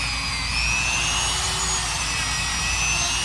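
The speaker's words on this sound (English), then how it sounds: "These little Dremel tools, man, work really good for this stuff." A Dremel rotary tool polishing the original fuel cap of a 1983 Suzuki GS 1100E motorcycle, a steady high-pitched whine held loud and close the whole time with no pauses or talk.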